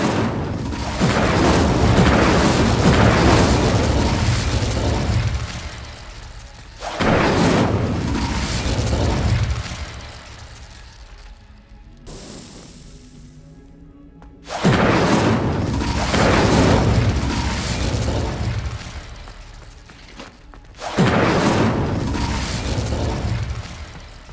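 Incendio fire spells cast in Hogwarts Legacy, heard as loud roaring, crackling bursts of flame and booming blasts that come in long sustained waves, broken by a brief quieter gap before resuming.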